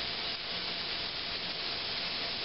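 Ground sirloin starting to brown in a large-capacity pan, a constant soft sizzling hiss with no talking over it.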